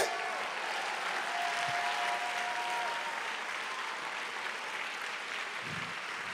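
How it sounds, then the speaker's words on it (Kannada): Congregation applauding during a church sermon, a sustained wash of clapping from many hands at moderate level, with a faint voice rising briefly near the start. "ಇರುವಾತನಿಗೆ ಚಪ್ಪಾಳೆಯ ಕಾಣಿಕೆ"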